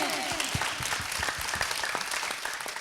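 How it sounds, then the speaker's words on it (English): A stage-show audience claps along in a quick, steady rhythm, with many hands striking together and a bright crowd wash behind, lasting just under three seconds. "Come on everybody, clap with me."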